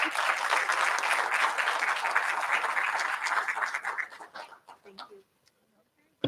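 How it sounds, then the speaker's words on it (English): Applause at a board of education meeting: a dense, steady round of clapping from the room that fades out over several seconds, leaving a few scattered claps and quiet at the end. "So I think Dr. Davis, she deserves a round of applause."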